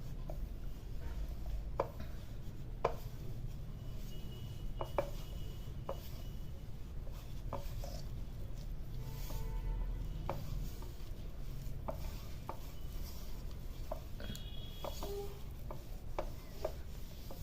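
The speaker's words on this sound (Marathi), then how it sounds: "आता हे मळून घ्यायचंय." Millet (bajra) flour dough kneaded by hand: soft, quiet squishing and rubbing in a steady, irregular rhythm, close by, with occasional light taps.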